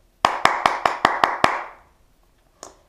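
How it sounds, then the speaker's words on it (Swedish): Seven sharp, evenly spaced hand claps ring out close up in a quick steady rhythm, then stop, followed by one fainter clap after a short pause. "Så det får vi applådera stort för"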